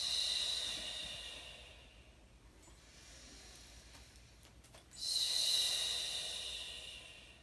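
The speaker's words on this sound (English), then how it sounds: "we're going to inhale through our nose and exhale through our mouth" Slow, quiet breathing during a yoga stretch, a soft airy inhale followed later by a longer exhale through the mouth, close and unhurried with no talking.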